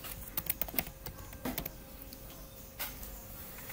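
A computer keyboard is typed on in a few quick, light clusters of key clicks near the start, then goes mostly quiet apart from one soft tap against a faint steady hum.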